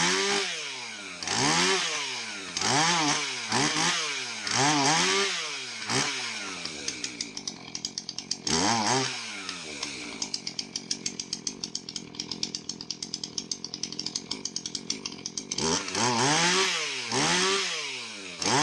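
A Husqvarna 450 chainsaw running rough with bar oil in its fuel tank, revved in repeated loud bursts, then settling into a ragged, sputtering idle before revving hard again near the end.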